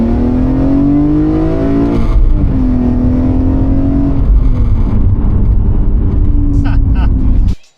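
A BMW E46 M3 CSL engine revs loudly while being driven, pulling through the gears with rising pitch, a shift, then a sustained strong drone from inside the car before cutting off abruptly.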